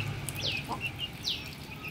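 Two short, high bird calls from chickens nearby, separated by a brief pause, over a low background murmur.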